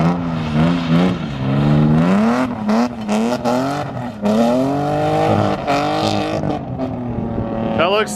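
BMW E36 drift car on dirt and wet ground, engine revving and wavering hard through repeated throttle stabs, loud and close, with a short pause mid-run.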